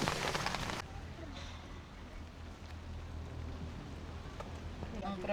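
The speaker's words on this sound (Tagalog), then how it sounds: "Malakas yung ulan." Heavy rain pours steadily onto a campsite canopy at a motorcycle camping spot in Zambales, a dense continuous hiss with a brief louder burst at the start and faint scattered drips and sounds throughout.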